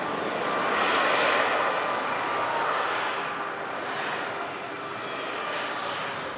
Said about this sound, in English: A lot of planes on the move.